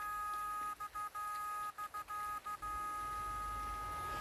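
An underwater metal detector held over a ring signals with a steady electronic tone, broken by a quick series of short beeps and pulses, then holding steady again; close and fairly quiet.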